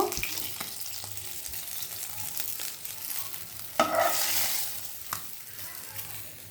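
Pieces of tilapia fish fry in a kadai, giving a steady close sizzle broken by scraping and clattering stirs, including a louder clank midway.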